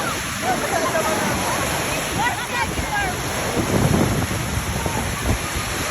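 Strong ocean waves crash and roar steadily on a beach, a loud continuous wash with wind buffeting the microphone and voices talking over it.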